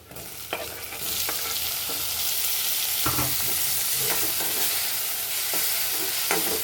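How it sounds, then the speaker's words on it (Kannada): Tomato frying in a pan with curry leaves for bitter gourd gravy, a loud steady sizzle close by, punctuated by several sharp spatula scrapes and taps while stirring, no one speaking. "ಇದನ್ನು ಕೂಡ ಚೆನ್ನಾಗಿ ಫ್ರೈ ಮಾಡಬೇಕು"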